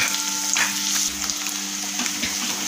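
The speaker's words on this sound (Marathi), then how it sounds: "तेलामध्ये आपल्याला हा कांदा छान परतवून घ्यायचा आहे" A large finely chopped onion fries in oil for dhaba-style dum aloo, crackling with a bright continuous sizzle. Brief stirring scrapes come through close by, and no voices are heard.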